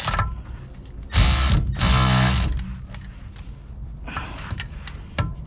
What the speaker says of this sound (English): see if we can save some time with a U-joint and electricity ratchet